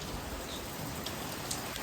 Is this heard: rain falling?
yes